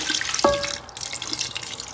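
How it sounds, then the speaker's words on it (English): Water runs and splashes briefly from a tap into a cooking pot of meat for bitter leaf soup, a short steady pour with a small clink near the start. "I will add water."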